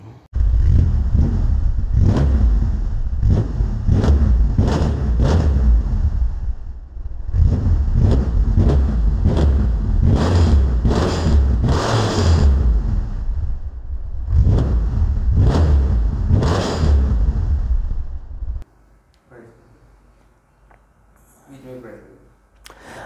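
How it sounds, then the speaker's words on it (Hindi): Kawasaki 636 sport motorcycle revving hard in repeated bursts, a loud, close engine climbing and dropping again and again before cutting to quiet idle near the end. "अब लिए चलते हैं आपको इस बाइक के साउंड टेस्ट की जाने और आपको इस बाइक की साउंड टेस्ट करवाते हैं"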